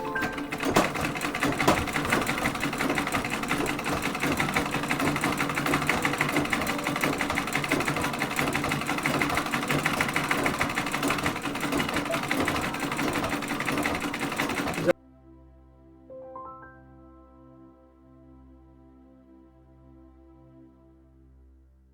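Treadle sewing machine stitching a tote bag, running steadily and loudly for about fifteen seconds, then stopping, followed by a few quieter handling sounds.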